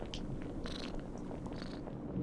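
A soft, close voice imitates a cat purring in a continuous low, rolling rumble, intimate and quiet.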